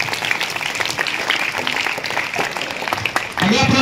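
An audience at a Constitution Day quiz event claps loudly and continuously for several seconds, a dense close wash of applause, with a voice rising over it near the end.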